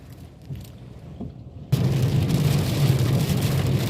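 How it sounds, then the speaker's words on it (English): Heavy rain in a severe storm under a tornado warning starts abruptly as a loud, dense downpour, a close, steady roar after a quieter opening. "Y'all hear this rain? Listen."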